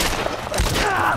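Gunshots in The Last of Us, a brief loud crack of game gunfire over a dense background of other sounds.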